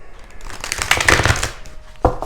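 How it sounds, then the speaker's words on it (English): A deck of playing cards is shuffled close by: a quick riffle that rises to a dense crackle, then a brief pause and one sharp final snap. No voices. "It's making it hard to shuffle these cards."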